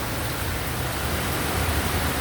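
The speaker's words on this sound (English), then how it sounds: "Raining cats and dogs out here." Heavy hurricane-season rain pours down in Santo Domingo, Dominican Republic, a dense, steady hiss of water with no break, loud and continuous with no voices.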